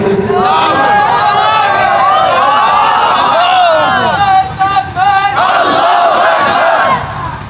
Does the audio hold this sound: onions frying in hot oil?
no